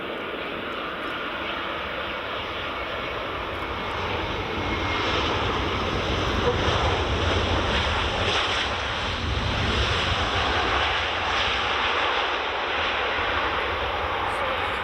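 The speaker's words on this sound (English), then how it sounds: "Here's the next one, which is Lufthansa Airbus A321." A Lufthansa Airbus A321 at Edinburgh Airport on runway 24 on an evening, its jet engines giving a loud, steady broadband roar that swells slightly midway and holds to the end, with wind-like rushing throughout.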